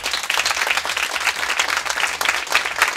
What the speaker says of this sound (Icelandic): Gefa hann að góða klapp.